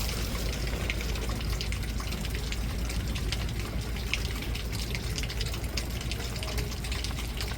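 Water is poured into a cooking pot of vegetables with coconut paste, ginger, garlic, curry leaves and cinnamon, giving a steady close gushing, splashing pour that runs unbroken without talk.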